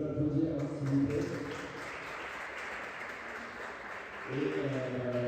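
An audience at a padel tournament applauds with a steady wash of clapping, moderately distant and soft, with people's voices audible at the start and end.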